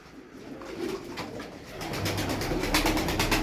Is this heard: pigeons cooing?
yes